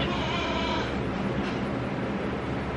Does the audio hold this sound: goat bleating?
yes